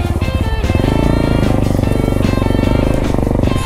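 A Honda Grom motorcycle ridden off-road on dirt trails, its small engine droning loud and steady with a close, continuous buzz throughout.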